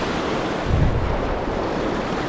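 A mountain stream on the Hiran Bagh trek near Gilgit rushes toward a waterfall, a steady loud roar of water mixed with wind buffeting the microphone, with no voices.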